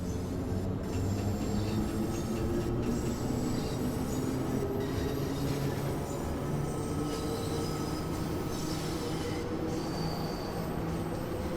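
A London Underground Bakerloo Line train in Train Sim World 2 rumbles steadily uphill out of the tunnels, with continuous wheel and motor drone, faint squeals and rattles, loud and close, with no talking.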